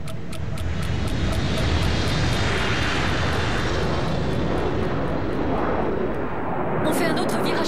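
Airliner in flight during a sharp turn, a loud steady engine roar and rushing air filling the cabin, constant throughout with a brief ticking burst near the end.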